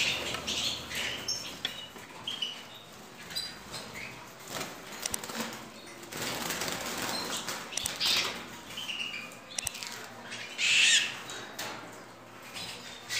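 A canary squawks and flutters while being handled, with scattered sharp cries, scuffling and wing flaps at close range over a faint background.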